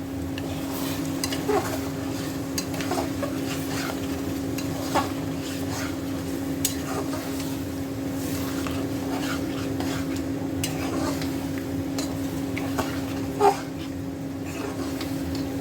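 Olive pickle being slowly stirred in a pan over the heat, with a constant soft sizzle and bubbling and scattered faint scrapes and clinks of the spoon throughout.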